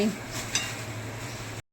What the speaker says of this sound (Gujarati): મમરી તળાઈ ગયું, સિંગદાણા તળવા માંડ્યા.